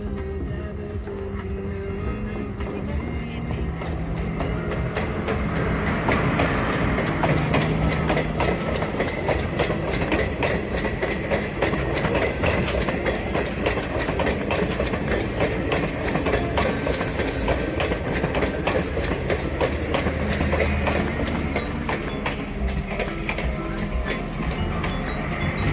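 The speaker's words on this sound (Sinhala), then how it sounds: "බලන්නකො කට්ටිපොළ ස්ටේෂන් එකට කෝච්චියක් එනවා" A train approaches Kattipola station in the hills near Horton Plains, Sri Lanka, with a steady rumble and rhythmic clickety-clack of wagons that grows louder and stays close through the middle before easing.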